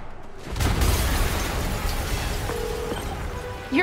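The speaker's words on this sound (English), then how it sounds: "An explosion just... I saw it." A deep rumbling boom erupts and rolls on as a sustained roar, loud and close, with faint tonal game sounds over it, an explosion in the PC game Spider-Man.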